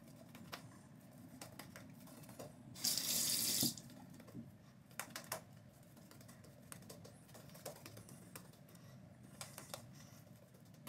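A shaving razor rinsed under a running tap after a wet shave pass, a brief loud gush of water hitting the sink in the middle, framed by quiet clicks and taps before and after.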